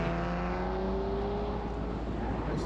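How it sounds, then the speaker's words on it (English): A Tesla's electric front motor gives a steady, close whir with rising tonal whines during a Targa New Zealand South Island tarmac rally drive. The hum runs unbroken throughout. "nice engine noises coming out of that Tesla"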